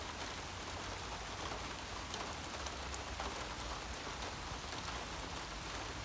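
Summer rain falling steadily, a dense even hiss of drops on surfaces, close and continuous with no other sounds.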